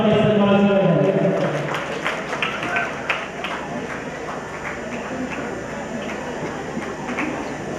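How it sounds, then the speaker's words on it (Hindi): Audience applause welcomes a guest at an Islamic quiz contest final, a dense burst of clapping that starts loud and settles into a steady roar, with a voice talking over it. "प्रदीप जाधव सर आपका भी यहाँ पर तमाम बंदे एक बार जोरदार तालियों से स्वागत के इस्तकबाल कर रहे हैं"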